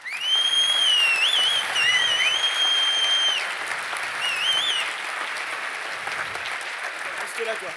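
Audience applause after keynote presentations at a conference, a loud sustained burst of clapping from a large crowd with whistles and cheers over it, easing slightly toward the end.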